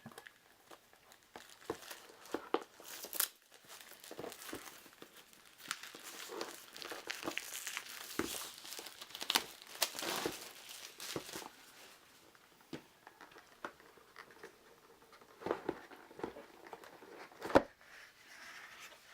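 Plastic wrap crinkles and crackles close up while a Clank! Sunken Treasures board game expansion is unboxed, with irregular bursts of rustling and tearing over about nineteen seconds and no speech.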